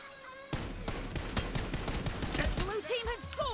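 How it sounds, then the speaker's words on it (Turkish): PUBG Mobile gunfire, fired from a prone position through a barn wall in the Evo area: after a brief quiet moment, rapid bursts of loud close shots crackle, followed by sweeping tonal game effects. "Bak içeriden de mermi geçiyor."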